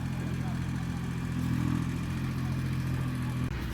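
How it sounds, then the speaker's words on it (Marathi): A tractor tills the ground in an orchard. Its engine runs as a steady, fairly close mid-pitched drone that swells slightly partway through, with no clear talk over it. "ट्रॅक्टरने खो खोटायचं काम कसं करतोय तो"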